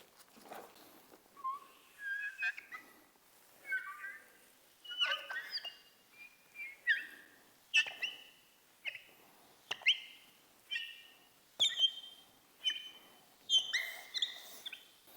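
An applicator pad rubs coating onto a BMW G80 M3 windshield, giving a rhythmic series of sharp, chirpy squeaks, about one per second, close and fairly quiet, with no talking.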